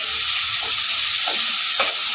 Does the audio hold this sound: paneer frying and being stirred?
yes